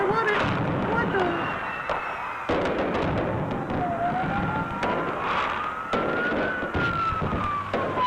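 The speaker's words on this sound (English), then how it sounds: "Whoa, whoa, whoa, I hear police sirens." A wailing siren rises and falls in the distance, punctuated by sharp bangs and pops like fireworks throughout.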